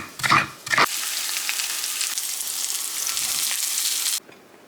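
Hash brown, turkey sausage and veggies (pepper, onion, okra) sizzle steadily in a pan, a dense close hiss after a couple of brief clatters at the start, cutting off abruptly near the end.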